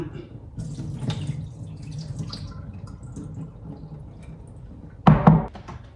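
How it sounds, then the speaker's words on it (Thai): Running water splashes steadily as sticky rice is rinsed by hand, with a louder burst of pouring near the end; a voice murmurs faintly underneath. "ล้างข้าวเหนียว สักสองน้ำ"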